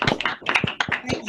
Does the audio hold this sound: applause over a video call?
yes